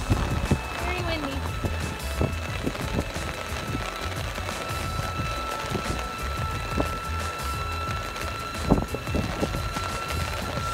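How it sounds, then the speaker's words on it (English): Gusty wind buffets the microphone with rumbling bursts over a steady background of rain or traffic hiss and a faint tonal hum. "Very windy."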